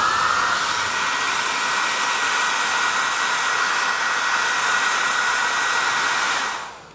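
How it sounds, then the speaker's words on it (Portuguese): Heat blower, like a hair dryer, warming repair paste on a motorcycle fuel tank: a loud, steady airy whoosh with a constant motor whine that holds for several seconds, then cuts off at the end. "Vai pegar o soprador e vai deixar na área até dissolver essa pasta"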